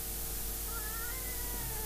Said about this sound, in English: My singing cat, Snow White Saarelma.